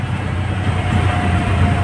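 A train rolls along near Mumbai, heard as a loud, steady low rumble of wheels and carriage noise with a faint whine running through it.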